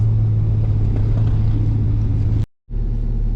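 Steady low engine rumble of a Toyota Tacoma with a blown head gasket treated with Bars Leak, cruising, continuous and fairly loud, with a brief cut to silence near the end before the drone resumes.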